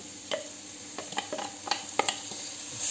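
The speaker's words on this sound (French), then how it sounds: "Donc on fait revenir l'oignon bien comme il faut" Sliced onions sauté in a pan with a soft background sizzle and a series of sharp scraping and tapping strokes from a utensil, close and irregular.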